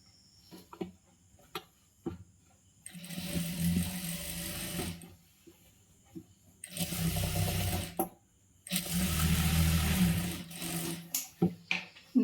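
Sewing machine stitching a churidar sleeve in a tailoring setting, running in three sustained bursts of a few seconds each, separated by pauses filled with small clicks and handling noises.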